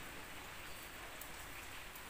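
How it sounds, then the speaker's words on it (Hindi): Morning rain comes down at about 7:30, heard from an opened gate, as a close, steady, soft hiss of drops with no pauses and no talk. "तो ये बारिश हो रही है।"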